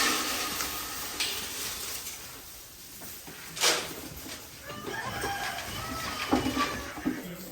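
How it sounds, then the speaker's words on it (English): Chickens on a small farm with goats cluck softly at dusk while heading to roost, scattered calls rising over a low ambient background, with one sharper squawk midway and a few more toward the end. "the chickens are headed to roost"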